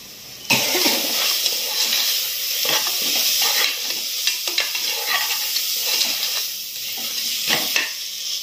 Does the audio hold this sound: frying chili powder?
yes